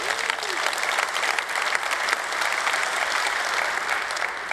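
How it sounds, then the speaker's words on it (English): Applause from a conference audience at a Firebase Summit keynote, a dense, steady clapping that fills the hall without a break and plays alone with no voices over it. "Give yourself a round of applause for that."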